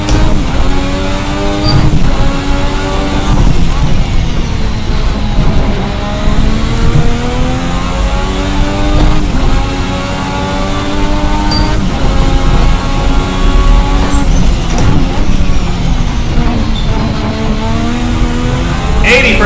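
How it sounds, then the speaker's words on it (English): A 1986 Formula RSS V6 race car in Assetto Corsa, its loud engine revving hard and continuously with rising and falling pitch sweeps as gears change, dense and sustained throughout. "Now we're starting to push the engine a bit."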